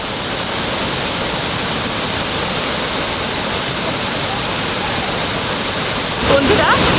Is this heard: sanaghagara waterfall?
yes